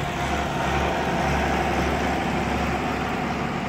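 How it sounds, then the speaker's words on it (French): A tractor passing behind, beside a field, gives a steady, low engine rumble that stays constant and moderately loud with no pauses. "Désolé, il y a un tracteur qui passe derrière."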